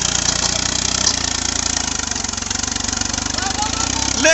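A tractor engine, an Eicher 551 or Mahindra 265, runs steadily at a low idle-like throb throughout, fairly loud and continuous, with a slight rise at the very end.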